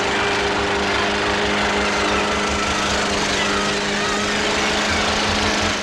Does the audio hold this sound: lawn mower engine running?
yes